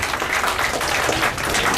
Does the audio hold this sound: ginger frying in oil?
no